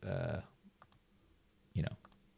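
Sharp computer mouse clicks, two close pairs, sound faintly over a quiet room while a person talks at the start and again partway through.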